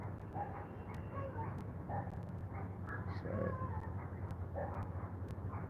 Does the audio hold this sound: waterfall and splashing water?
no